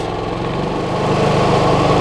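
A Westinghouse 4500 portable generator engine runs loudly and climbs in pitch and volume as efficiency mode is switched off, revving up with a steady throbbing hum.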